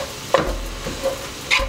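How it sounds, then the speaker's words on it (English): Sausage browning in a soup pot, a steady low sizzle broken by a few scraping stirs of a utensil against the pot, close and moderately loud, no talking. "In a soup pot, we'll go ahead and brown our sausage."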